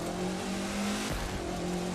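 A Ford Focus RS RX rally car in the racing game The Crew 2 downshifts under light brake taps, its engine note dropping sharply midway before climbing again, with faint tire noise and no talking.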